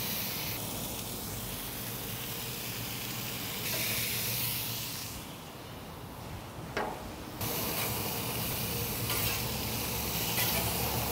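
Bacon cheeseburgers sizzling on a grill with a steady frying hiss throughout, swelling into a brief burst of steam and a sharp metallic scrape partway through, close and fairly loud with no talking.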